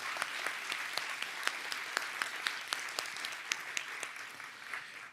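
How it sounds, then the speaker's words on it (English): Audience applause at a theater performance in Manhattan, a moderate crowd clapping steadily with distinct individual claps cracking out above the blended patter. "Let's give them a round of applause."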